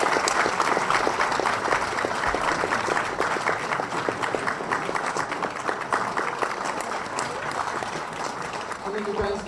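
Audience clapping at a New Year's concert, dense sustained applause from a full hall, loud and continuous, slowly easing toward the end, with a voice talking over it briefly.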